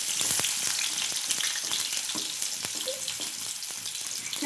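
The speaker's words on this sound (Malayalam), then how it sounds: "ഇനി നമുക്ക് അതിലേക്ക് ഉള്ളി ഇട്ട് കൊടുക്കാം." Sliced onions drop into hot oil in a cooking pan for a Kerala-style curry, giving a steady, close sizzle with scattered sharp crackles and pops and no talking.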